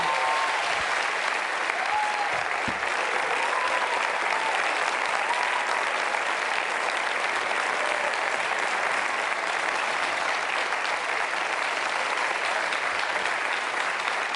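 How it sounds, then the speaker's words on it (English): Sustained audience applause fills a hall at the Copenhagen Democracy Summit after a speech by former U.S. President Obama, a dense, steady wash of many hands clapping without a break, loud and close, with no clear talk over it. "Please give them a big round of applause"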